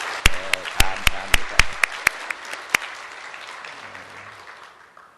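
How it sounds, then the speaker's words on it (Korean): A church congregation applauds its choir, loud sharp claps standing out at the start and then thinning into a fading patter of scattered clapping. "우리 박수 한번 하겠습니다."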